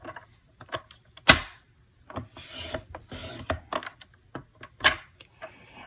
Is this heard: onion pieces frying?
no